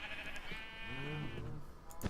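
A sheep in the Minecraft video game gives a single wavering bleat, moderately close and clear, followed by a soft click at the end, with no talking over it.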